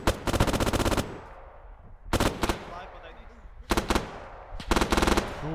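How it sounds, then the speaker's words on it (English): Machine gun fire in a WWII Stalingrad battle video game, loud rapid bursts of automatic shots in several separate volleys with gaps between, close and dominant, with some talk underneath. "Using plenty of MG ammo to go around."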